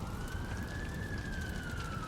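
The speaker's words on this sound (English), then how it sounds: "The sirens grew louder and soon arrived at the burning Schnockel residence." A police car siren sound effect rises and falls in a slow single sweep, faint and distant under a hissy wash of background noise, with no voices.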